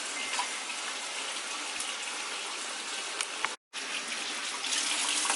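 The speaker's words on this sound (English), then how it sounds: "So I just finished rinsing off all my husks." Tap water gushes and splashes steadily as corn husks are rinsed under it in a sink, with a brief cutoff midway before the flow resumes, close and continuous.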